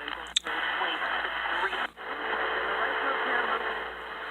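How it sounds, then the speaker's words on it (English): Shortwave radio reception from a Canadian station on a reel antenna, a faint voice buried under steady hiss and static, with a sharp crackle and a brief dropout partway through. "it's a shortwave station, but I'm pretty sure that's that station in Canada"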